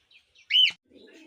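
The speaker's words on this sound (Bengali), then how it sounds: "এই দুটো আমার ককাটেল পাখি" One of a pair of pet cockatiels gives a single bright, close chirp, preceded by faint soft peeps and followed by a low, quiet rustle.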